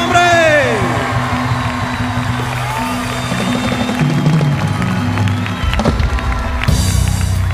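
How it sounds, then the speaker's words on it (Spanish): A live show audience applauds and cheers in a steady, loud crowd roar, with a voice speaking over it and a burst of crowd noise near the end. "Un fuerte aplauso a quien se lo merece"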